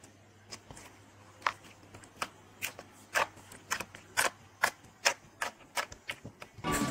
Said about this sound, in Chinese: 水晶泥捏起来的声音好好听哦，搓得啪啪响，大家也一起听一下。